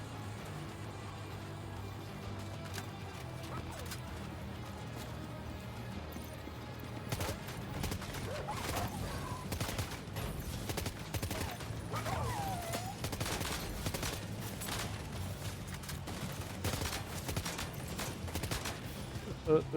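Enemy gunfire in the video game Death Stranding 2, scattered sharp shots and bursts rising in density over the second half, mixed with game ambience and occasional speech.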